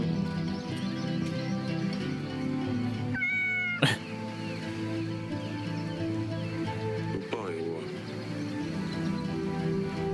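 A cat meows in the video game Yes, Your Grace, two short mews rising over a steady bed of game music and ambience.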